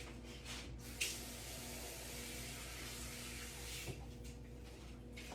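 A kitchen tap runs in a steady, soft hiss of flowing water while cooking creamed corn, low and continuous with a faint clink near the start.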